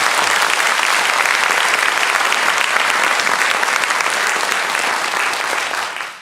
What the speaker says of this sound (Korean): 박수로 우리 한번 환송하도록 하겠습니다.